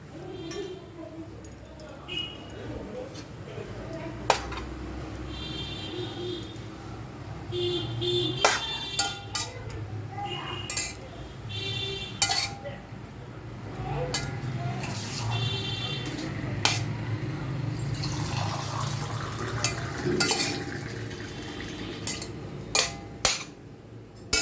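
Bread pieces frying in ghee in a pan while being stirred for bread halwa, with frequent light metal clinks and scrapes of a spoon against the pan under steady talking.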